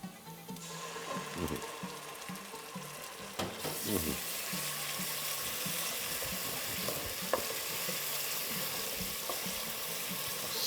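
Chopped onion fried with tomato paste in a pan gives a quiet crackle with a few stirring knocks, then swells into a dense, continuous sizzle that holds to the end.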